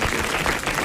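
A studio audience at a 1984 French radio comedy show applauds in a brief, dense, steady wash of clapping.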